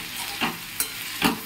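Mixed vegetables with poppy seeds frying in a pan, a steady sizzle broken by three quick stirring scrapes at an even pace, close up, no voices.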